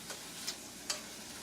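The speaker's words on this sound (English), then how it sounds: "once you hear that nice sizzling sound of all those toxic things we put in here, we're going to start stirring it" Chicken sizzling in a pan while being stirred, a soft continuous frying hiss with a few brief scrapes of stirring at irregular intervals, fairly quiet and close.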